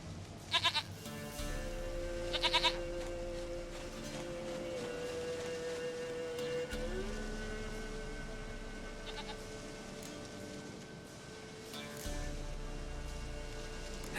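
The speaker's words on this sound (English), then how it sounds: "Goat of mine, dearest, sweetest goat." Goat in The Witcher 3 game gives short, sharp bleats, a pair near the start and another a few seconds later, over a steady backdrop of tonal game music and ambience.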